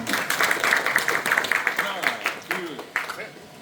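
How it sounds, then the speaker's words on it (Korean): Applause at a corporate safety-assessment presentation as the presenters are welcomed, a moderate round of clapping that fades into a few scattered claps, with a voice partly over it. "큰 박수로 환영해 주시기 바랍니다"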